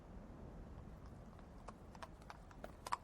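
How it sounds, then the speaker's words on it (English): Hoofbeats of approaching horses sound as a staged effect in a Macbeth reading, sharp clops growing quicker and louder toward the end over a faint hiss. "Hark, I hear horses."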